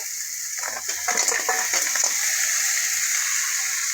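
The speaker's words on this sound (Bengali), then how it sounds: "তার সাথে দিয়ে দিচ্ছি কাঁকড়াগুলো।" Crabs frying in a pan after cumin powder goes in, a steady close hiss with brief crackling bursts early on that settles into an even sizzle, no talking.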